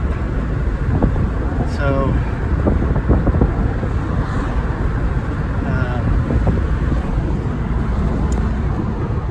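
A 2004 Ford Focus drives along a road through an S curve, its steady road and tyre rumble mixed with wind buffeting the microphone, while someone talks over the noise throughout.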